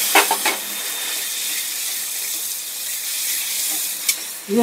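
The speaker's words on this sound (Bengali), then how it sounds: "নাড়াচাড়া দিয়ে মশলাটাকে কষিয়ে নেব।" A spice paste of coriander, cumin and turmeric loosened with a little water fries in a pan, giving a steady close hiss and sizzle with a few soft stirring scrapes.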